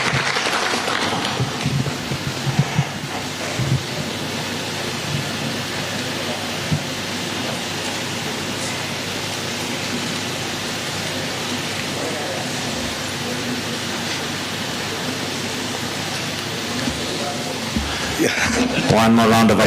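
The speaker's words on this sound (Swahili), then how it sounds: "Tumpigie rais makofi kwa hiyo kazi." Sustained audience applause at a live Kenyan state event where President William Ruto signs the Affordable Housing Bill, a dense steady wash of clapping lasting about twenty seconds with crowd murmur and voices mixed in.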